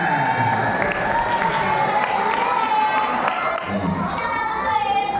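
An audience at a Maulid Nabi gathering in a housing estate claps steadily, crowd noise and children's voices mixed in, with talk running over the applause throughout.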